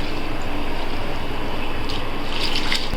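Dirty wash water being poured out in a steady, continuous gushing splash, close and moderately loud for the whole stretch, with no speech.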